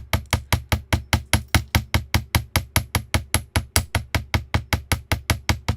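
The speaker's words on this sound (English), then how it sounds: "And you'll see I'm placing it on the edge here and hammering between the bead and the loop at the top." A small hammer strikes wire on a hard surface to work-harden it for handmade jewelry, producing sharp, evenly spaced metallic taps at about five per second, close and steady, with no voices.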